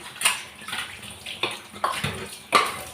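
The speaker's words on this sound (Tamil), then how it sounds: "ரொம்ப ஹையாக திறந்து வச்சு நிறைய தண்ணி செதறாமல் நம்ம மேலே தண்ணி தெறிக்காமல் நம்ம பாத்திரத்தை கழுவி வைக்கணும்" Tap water splashes while dishes are washed in a kitchen, with close, uneven bursts of running and splattering water and light clinks of pots and plates.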